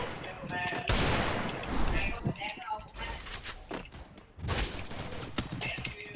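Bursts of gunfire from the battle royale game PUBG crack out in rapid volleys, loud and close, with several separate strings of shots broken by short pauses while people chatter in the background.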